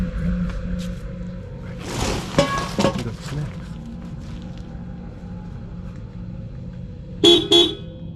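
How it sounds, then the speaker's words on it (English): Car horn pressed repeatedly at a campsite to scare off a lion: a burst of honks around the middle, then two sharp, loud toots near the end over quiet engine idle. "The brothers tried to scare it away by pressing on the horn and even driving as close to it as they could without hitting it."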